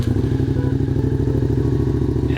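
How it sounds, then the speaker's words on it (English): A Suzuki SV650 motorcycle engine idles just after starting, a loud, close, steady rhythmic thrumming and pulsing with no voices. "And then I'm going to pray that the bike starts."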